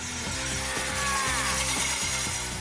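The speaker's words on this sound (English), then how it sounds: "their final effort using a drill is a rather odd idea" A power drill bores into a pane of painted glass, making a close, loud, continuous grinding whine with a rhythmic pulsing judder and no voices.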